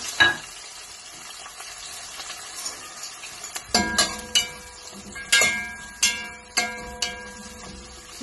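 Pieces of chicken go into hot oil for a curry and sizzle steadily, with a sharp burst of frying and then a series of regular clinks and sputters as they are added and stirred.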